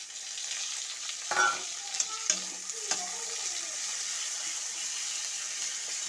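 Ginger and tomato going into a frying pan for a cauliflower dish, giving a steady hiss of sizzling oil with a few brief soft thuds and scrapes as they land.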